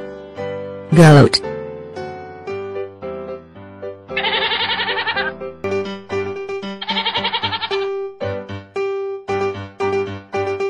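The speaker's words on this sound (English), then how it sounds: "Goat." Several bleating calls, with one loud, harsh bleat near the start and two longer wavering bleats later, all set over a steady melodic musical backing.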